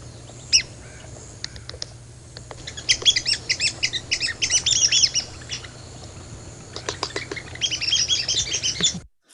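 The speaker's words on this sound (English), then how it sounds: "So that sounds like a couple red cockaded woodpeckers pecking on a tree" Red-cockaded woodpeckers on a played recording: a few sharp taps, then bursts of high, squeaky chattering calls that come in two loud clusters over a low steady hum before cutting off.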